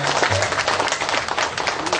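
Audience applause at a community event on eco-friendly waste processing in Probolinggo, greeting a waste-care group member in white; dense, steady clapping from many hands, close and loud, filling the whole short stretch.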